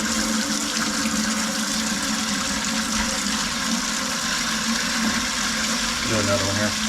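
Fresh water running steadily from a tap into a bowl holding fish fillets during kitchen prep, a continuous close splashing rush lasting several seconds, with a brief tonal hum near the end.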